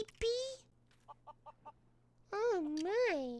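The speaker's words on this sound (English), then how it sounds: "So we got these little baby chickies." Baby chicks in the video game Lego Worlds cheep and cluck, a loud chirp at the start followed by a row of four short soft peeps, then longer rising and falling warbling calls near the end.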